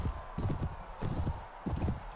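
Horse hooves pounding in the Game of Thrones mod for Mount & Blade: Warband, a rhythmic clip-clop of galloping in repeating bursts, fairly close and steady, with no talk over it.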